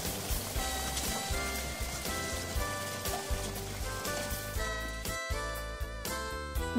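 Rain pattering as a constant hiss, heard over soft music with sustained tones and no talking.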